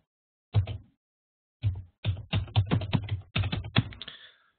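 Ticker symbols typed on a computer keyboard for an investment portfolio: a short burst of clicks, a pause, then a long run of quick, close keystrokes with no talking.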